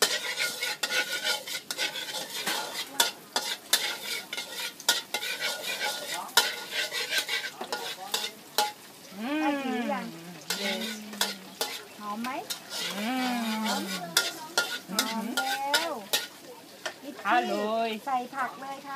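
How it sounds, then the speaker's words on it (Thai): Vegetables and garlic are stir-fried in a pan, with a busy, close rattle of a utensil scraping and tossing over a soft sizzle while someone talks over much of it. "ใส่ผักแล้วก็ผัดนิดหน่อยผัดนะคะ"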